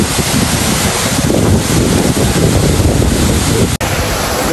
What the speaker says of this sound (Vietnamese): bây giờ tôi đang cạnh thác